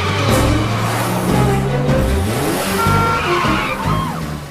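A cartoon car backs dangerously into traffic, its tires squealing in rising and falling skids over engine roar and revving, loud and close across several seconds, with no voices.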